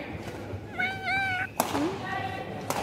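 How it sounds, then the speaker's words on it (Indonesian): A cat gives two drawn-out meows close by, separated by a thump, with a few sharp knocks and faint background noise. "Kucing apa ini?"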